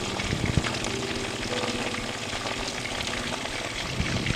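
Chicken 65 frying on high flame in a pan of hot oil, a dense, steady crackling sizzle heard close and loud throughout with occasional sharper pops.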